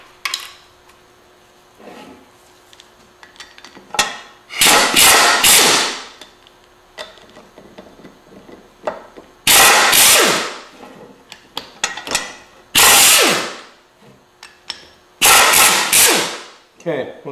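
A 1/2-inch air impact gun with an adapter loosens stubborn Maserati brake caliper bolts. It lets out several loud, sharp rattling bursts of one to two seconds each, separated by quieter gaps of shop noise.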